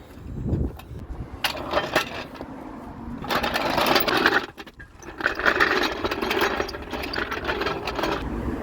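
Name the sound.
car jack lowering a Ford Focus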